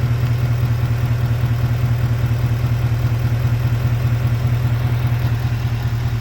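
A Ford F-150 engine runs steadily, a loud, close, even mechanical drone with a low hum and no speech, holding a constant pitch without any audible rev change.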